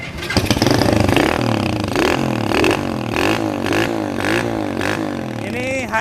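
An HSX 110 cc motorcycle refitted with a hand-clutch RFZ 125Y manual engine runs loud and close, a continuous engine note whose pitch rises and falls with revving throughout.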